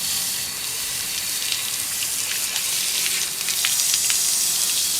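A water hose sprays and rinses sandblasting grit off a sandblasted Mazda 626 valve cover, a steady close hiss of spray with no talking.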